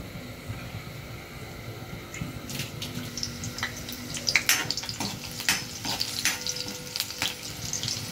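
Crushed garlic cloves sizzling in hot oil as a tempering for an okra dish, a steady nearby frying hiss with scattered crackles and pops that grow livelier partway through.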